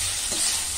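Unripe fig pieces are tossed into a pan over softened ingredients, giving a brief, steady sizzling hiss with a faint stirring scrape.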